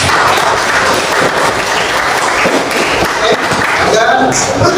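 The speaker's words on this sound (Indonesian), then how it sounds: "kita aplaus untuk kita semua" Meeting participants applaud together at the close of a session, a loud, dense, continuous clapping with voices mixed in throughout.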